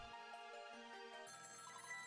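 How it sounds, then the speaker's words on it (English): A telephone ringtone in the Ghost Trick video game trills steadily with bright, repeating electronic tones, shifting to a busier pattern partway through. It plays close and clear with no talk. "Phone call."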